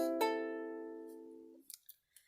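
A single strum across tuned ukulele strings rings out and decays over about a second and a half, followed by a few faint clicks and rustles.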